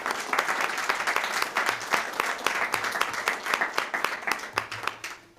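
Applause at a school district board meeting honoring a student, Nicole Allen: a room of people clapping steadily and densely throughout, fairly close, with no talk over it.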